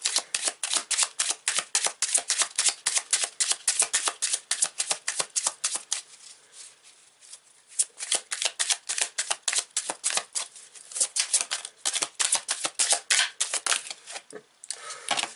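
Tarot cards being shuffled in rapid, crisp riffling bursts, close and fairly loud, with a short quieter pause midway before the flicking resumes.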